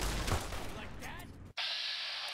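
Gunfire in the video game Fallout: New Vegas comes as a few loud, broadband blasts close together, followed by a sudden switch to a steady hiss.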